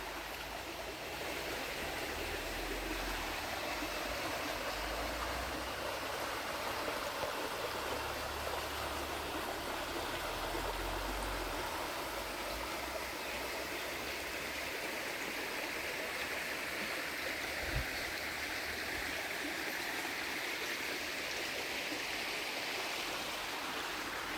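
A stream flows continuously, a steady broad rushing of water heard from nearby, with no voices and no change in level throughout.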